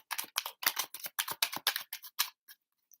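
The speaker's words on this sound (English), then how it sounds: "One more shuffle." Tarot cards being shuffled close up in a quick series of crisp riffling snaps and flutters, about a dozen bursts in a brisk uneven rhythm that thins out toward the end.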